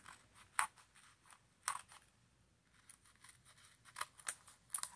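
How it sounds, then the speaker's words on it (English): Scissors snip around the edge of an old greeting card in a quiet room, giving a handful of short, crisp cuts spaced irregularly, close and moderately soft. "So now I'm going to go ahead and cut around this here so that I can still have the gold"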